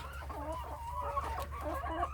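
Hens clucking in a farm coop, a busy overlapping chorus of close, continuous clucks and short calls over a low background hum.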